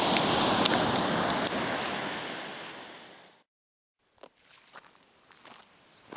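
Surf washes onto a sandy beach on the E4 trail in Crete near Elafonisos, loud and rushing at first, then fading out. After a short silence, faint, uneven footsteps crunch on the sand.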